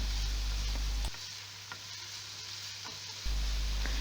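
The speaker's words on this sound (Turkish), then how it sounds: "bu soğanlarımı tavamızın içerisine alıyoruz ve güzelce soteliyoruz" Steady hissing sizzle of diced onions sautéing in a pan, with a few faint clicks from stirring, close and continuous.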